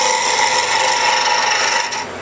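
A wood lathe spins a Patriot blend pen blank at slow speed, giving a steady close rasping, rubbing whir with a faint tonal hum, ending in a brief dip as the sound eases off.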